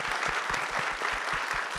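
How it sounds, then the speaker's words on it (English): An audience at a New York Film Festival talk claps loudly and continuously, dense steady applause filling the room. "please put your hands together for Payal and Thomas"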